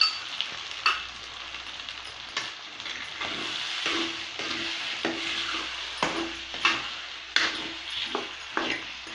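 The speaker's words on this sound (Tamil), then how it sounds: "இப்போது கடலை மாவு கரைச்சி வச்சுருக்கிறத இதில் ஊற்றணும்." Gram flour batter poured into simmering potato masala for poori, with a soft bubbling sizzle and occasional sharp clicks of a spoon against the pan, fairly quiet and close, no talking.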